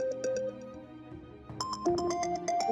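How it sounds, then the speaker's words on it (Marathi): A mobile phone ringtone plays a bright, repeating electronic melody of clear tones, fairly close and steady, with no voices over it. "गोपाळचा फोन वाजतोय."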